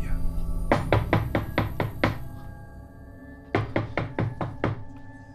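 Knocking on a bedroom door as a horror podcast effect: a run of about eight sharp raps, a pause, then a second burst of about six knocks, close and loud.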